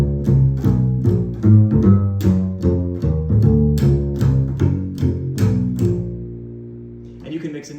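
A walking bass line steps along in a steady pulse, sliding into each target note chromatically from above, with a brief sustained chord at the end.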